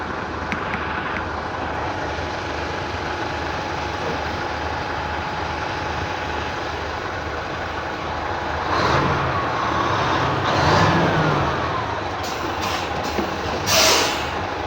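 Two Hino and FAW trailer trucks warm up their engines: a constant low diesel drone with a faint whine above it, swelling louder twice in the middle and again briefly near the end.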